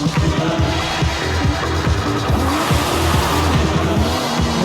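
Race cars in the video game Forza Horizon 5 roar continuously, with engines revving and tires squealing in a loud, unbroken stream.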